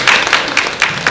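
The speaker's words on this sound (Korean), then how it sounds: "박수 부탁드리겠습니다" Audience applause at a Hanyang University business graduate school admissions briefing, about a second of brisk clapping from a seated crowd, fairly loud and close.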